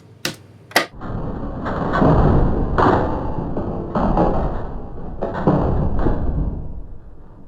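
Crunching metal sample pitched down two octaves for industrial metal, a couple of sharp clanks opening into a heavy, grinding, machine-like rumble with thudding hits, loud and close with no voices.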